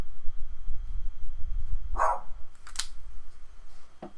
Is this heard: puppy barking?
yes